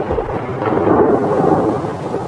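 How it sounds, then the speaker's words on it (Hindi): A deep rumble of thunder rolls beneath steady, hissing rain, with no voices present. "बरसात आ चुकी है।"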